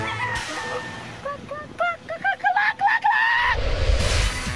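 Several people imitate chicken clucking, a quick run of choppy, rising squawks bunched together, followed by murmuring and noise.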